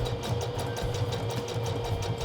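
Sewing machine stitching a hem on fabric, running as a steady continuous mechanical hum with rapid needle chatter, close and moderately quiet, no voices.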